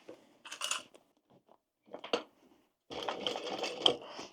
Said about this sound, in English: I'm going to do a double row of top stitching around the top to match my straps.